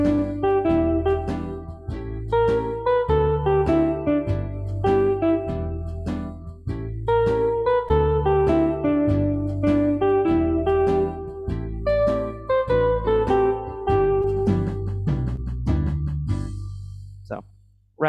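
A Lowrey organ runs its Gypsy Rag rhythm at tempo 100, with a bouncy bass-and-chord accompaniment under a melody line, loud and close throughout with no talking, ending in a held chord that cuts off.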